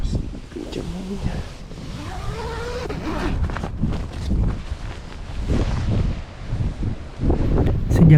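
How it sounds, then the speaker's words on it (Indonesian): Strong wind blowing across a mountain campsite in Sulawesi, a steady broadband rush with gusts that rise and fall throughout, rattling the tent, and faint low murmuring voices in the background. "Kencang anginnya."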